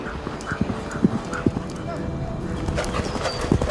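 Horse hooves clip-clop in an uneven rhythm close by, with a few sharper strikes, under background voices.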